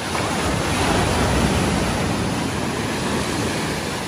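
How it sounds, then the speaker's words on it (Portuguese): Strong ocean waves breaking at the shore of a small beach in Guarujá, São Paulo, heard from the rocks as a loud, continuous wash of surf with wind noise against the microphone. "As ondas aqui na beira é bem forte."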